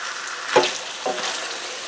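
Flounder sizzles in a hot pan, a loud steady frying hiss with a couple of brief sharper crackles as the fish shifts.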